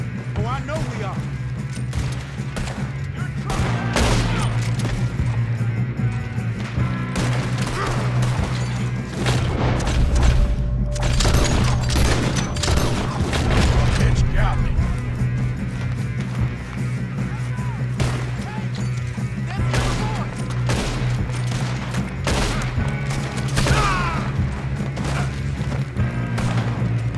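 Red Dead Redemption 2 gunfire in a Wild West shootout, with repeated loud gunshots and booming reports spread across a dense, continuous battle din, and voices talking over the shooting.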